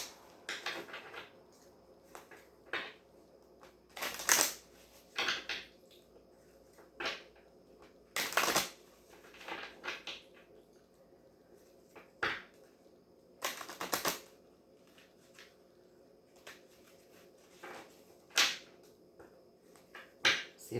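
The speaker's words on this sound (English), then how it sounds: "see if I can do a decent shuffle here" Tarot cards being shuffled by hand, a series of sharp riffling bursts and soft card slaps at irregular intervals across a quiet room, with no talking.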